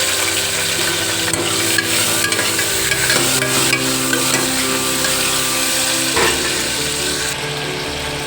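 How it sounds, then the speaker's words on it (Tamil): Onions, tomatoes and green chillies sautéing in hot oil for a home-style chicken curry, a steady close sizzle with clinking, scraping stirring running throughout, no talk. "அது கூடவே வெங்காயம் தக்காளி பச்சை மிளகாய் போட்டு நல்லா வதக்கிக்கலாம்"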